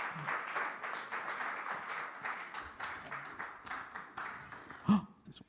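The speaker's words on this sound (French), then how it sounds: "je vous prie de faire un tonnerre d'applaudissements pour notre cher pasteur Pascal Pfister" Church congregation applauding their pastor Pascal Pfister, a crowd of clapping that fades toward the end, with a brief voice rising over it just before it dies out.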